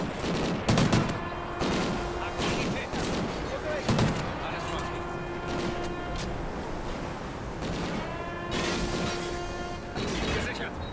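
Gunfire in the video game Call of Duty Ghosts comes in three short, sharp bursts spread across the stretch, over a steady bed of tonal game sound and voices.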